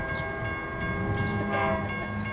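A Metra commuter train arrives at Downers Grove, Illinois station, rumbling in steadily with a low mechanical drone and sustained tonal hum, continuous and fairly loud throughout, no voices.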